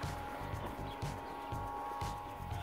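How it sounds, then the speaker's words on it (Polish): A steady mechanical hum of a household well's water pressure pump running nearby, with a low rhythmic throbbing and a faint whine underneath. "Hydrofor chodzi, słychać"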